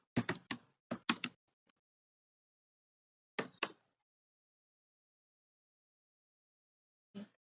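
A computer keyboard typed in a few quick clusters of close, crisp clacks, a pause, then two more taps and a single final keypress, in a quiet room.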